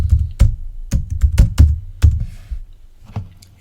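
A password is typed on a computer keyboard in a short burst of close, crisp key clicks with uneven rhythm and small pauses between strokes, with no voices.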